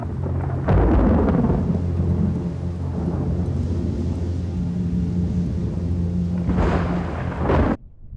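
A night thunderstorm booms with loud, rolling thunder over steady heavy rain, with a second strong rumble near the end before it cuts off abruptly.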